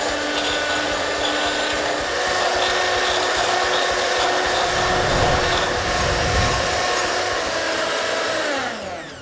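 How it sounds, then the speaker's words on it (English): An electric mixer whips egg whites toward stiff peaks, a loud, close, continuous whirring buzz with scraping texture that holds steady for several seconds and then winds down. "I'm going to be whipping this egg white into stiff peaks."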